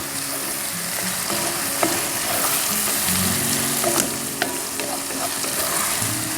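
Onion sizzling loudly in a pan with bacon and garlic, a dense steady frying hiss with occasional stirring scrapes, close and without talk.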